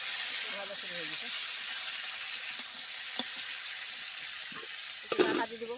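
Pointed gourd and potatoes fry in a wok with a steady sizzle and hiss, stirred now and then with scraping clinks, loudest toward the end, while a voice talks briefly early on.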